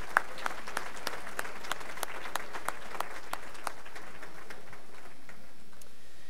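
A small audience at a hall of fame ceremony dinner gives sparse, distinct claps, individual hand strikes audible at a moderate distance, that taper off after about four seconds into quiet room tone.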